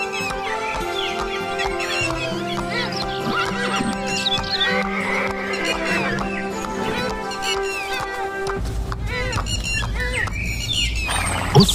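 A horse neighs and whinnies over steady clip-clopping hooves as a king rides out alone from his palace, with bird squawks and chirps around it and a music-like backing throughout.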